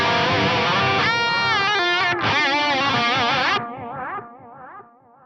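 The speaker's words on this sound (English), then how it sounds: "I love the way that delay sounds" A distorted electric guitar through a BOSS GT-1000 analog delay effect plays a phrase that echoes back in fading repeats after the notes stop, the delayed copies growing softer.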